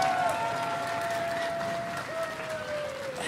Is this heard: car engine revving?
no